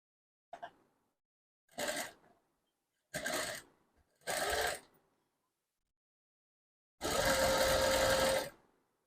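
A sewing machine stitching thread piping onto cloth, running in four short bursts and then one longer steady whir, close and loud with silence between runs.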